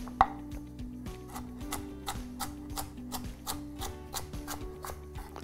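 Knife chopping vegetables such as carrots into small cubes on a cutting board, giving a steady run of close, crisp taps over a low tonal background hum.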